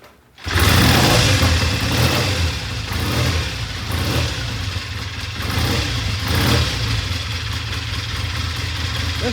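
A Triumph 350cc 3TA motorcycle engine fires up after a brief silence and keeps running steadily and loudly close by, with slight rhythmic surges in its beat.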